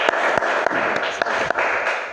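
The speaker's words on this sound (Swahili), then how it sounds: "Tumpigie Yesu makofi" Church congregation clapping hands together for Jesus, a steady wash of many hands applauding with a few sharper claps standing out, loud and close throughout.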